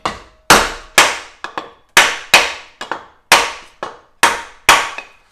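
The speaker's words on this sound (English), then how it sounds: "All I'm gonna do is take a 2x4 and just, this one's gonna go 90 degrees and just slowly work it around." Steel sheet is hammered into a 90-degree bend over a 2x4 wooden block while repairing a rusted Subaru WRX cross member mount. About a dozen sharp, loud, close metallic blows come at an uneven pace, with short ringing decays between them.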